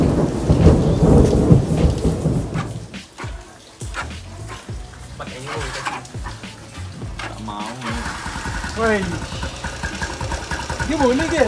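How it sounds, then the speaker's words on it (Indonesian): Rain falls with rolling thunder, a heavy low rumble in the first seconds, then steady patter. Voices talk over it and an engine-like drone runs underneath. "Hujan guys, hujan."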